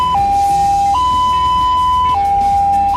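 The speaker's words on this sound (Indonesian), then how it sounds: "jenis-jenis bunyi sirine pada ambulans" An ambulance siren sounds a loud, close two-tone wail, stepping back and forth between a higher and a lower pitch in a steady hi-lo pattern, with no other voices.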